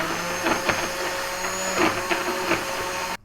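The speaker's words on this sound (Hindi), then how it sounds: "ये हमारे बन ग्राइंड हो गए।" An electric kitchen grinder whirs steadily as it grinds bread buns for a thick raita, a continuous loud motor hum with a few rhythmic thumps, stopping abruptly at the end.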